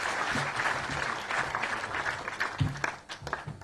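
A short burst of audience applause at a formal sports gathering, uneven clapping close to the microphone that thins toward the end.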